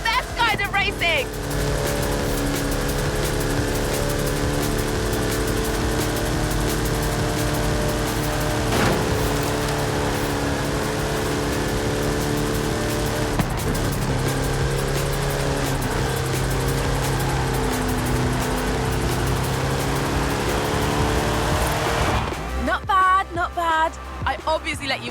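A Hot Wheels race car in Forza Horizon 5 running through an upside-down loop: a loud, steady, high-revving engine drone with shifting whine and tone that lasts most of the run, then cuts off abruptly near the end.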